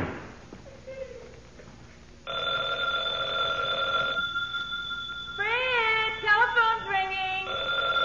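An old-fashioned telephone bell rings in steady sustained bursts indoors, loud and close, after a brief quiet lead-in with faint movement sounds.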